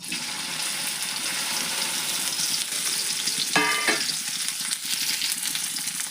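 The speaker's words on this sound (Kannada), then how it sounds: "ಈಗ ಇವನ್ನ ಬೆಂಡೆಕಾಯಿ ಇದಕ್ಕೆ ಹಾಕ್ತೇನಂತ" Sliced okra frying in hot oil, a steady dense sizzle throughout with a brief clatter of a spoon partway through, close and fairly loud, no voices.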